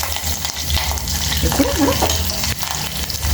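A tempering for tomato dal fries in hot oil with a steady, close sizzle and the scrape of stirring, while a voice speaks a couple of words over it.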